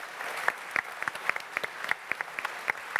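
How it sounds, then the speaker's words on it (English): An audience at a Frontier Expo presentation applauds, a few people clapping in a sparse, fairly close patter of uneven hand claps over about three seconds. "So please, round of applause, please."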